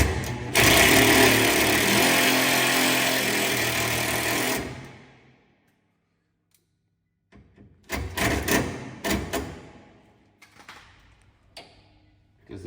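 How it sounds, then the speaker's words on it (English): A power drill whirs loudly and steadily for about four seconds while driving a screw to mount a reverse camera on a Toyota Hilux, then winds down into silence, followed by scattered handling knocks and clicks. "that will hold while you drill it in"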